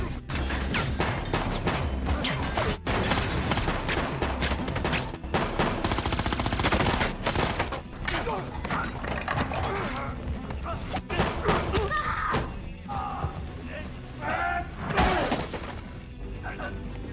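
Gunfire in an action-film shootout, with rapid bursts and heavy, dense volleys mixed with crashes and impacts. It stays loud and nearly continuous for about seventeen seconds.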